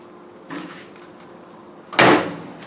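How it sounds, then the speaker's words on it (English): A GE dryer door being pulled free of a clothes dryer during a vibration repair: a faint clunk early on, then one loud, sharp knock and scrape that fades out over about half a second, close by with no talking. "pull your door out"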